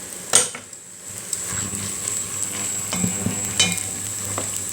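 Nettles wilt in a pot of hot dal, giving a steady sizzling bubble with clinks of a metal spoon against the pot, close and continuous with a sharp knock near the start.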